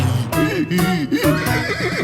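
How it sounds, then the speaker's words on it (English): A horse neighing in a children's song, several bright whinnies with a wavering, descending pitch, loud and close, one after another over the music. "And he would neigh when she went away."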